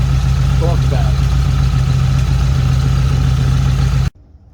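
A car engine fitted with dual Weber 34 ICT carburetors idles loud and close with a steady low drone, then cuts off abruptly near the end, leaving near silence.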